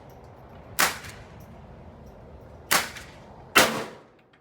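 A brand-new AR-15 rifle fires three sharp, loud shots at an outdoor shooting range. A pause follows the first shot, and the last two come close together, each with a brief fading tail.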